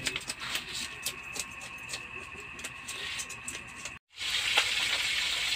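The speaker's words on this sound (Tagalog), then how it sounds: "nagpiprito na tayo" Squid frying in a pan gives a steady, faint sizzle with scattered pops and crackles, briefly cut off near the end before resuming.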